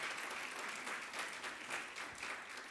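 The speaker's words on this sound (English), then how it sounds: "give you a good round of applause" An audience applauds a panel at a nutrition and health conference, a brief, even patter of many hands clapping at moderate loudness, heard on its own.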